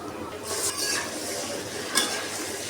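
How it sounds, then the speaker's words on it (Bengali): Chicken sizzles and hisses in hot oil in a wok with onions, a steady frying noise with a brief louder burst near the end. "এখন আমি মাংসটা দিয়ে দিলাম"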